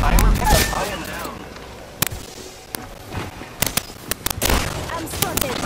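Gunfire in Apex Legends, a burst of noise followed by sharp, close shots and a rapid cluster of cracks near the end, with voices heard.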